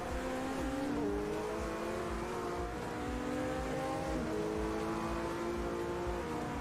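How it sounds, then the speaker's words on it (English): Race cars in the sim racing game Automobilista 2 drone steadily at a moderate level, with engine tones rising and shifting through gears as nearby cars run together, no talking. "The volume levels for the other cars is really well done. Like, you can hear them"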